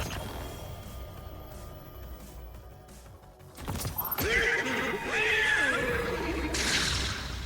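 A horse whinnies in a video game, a rising, quavering neigh that enters after a brief thud and carries on loud and close for several seconds over a low background hum.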